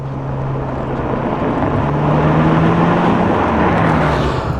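Inside a Porsche 911 GTS Hybrid, the engine drones loud and close with a steady hum that climbs slightly in pitch, mixed with rushing wind noise.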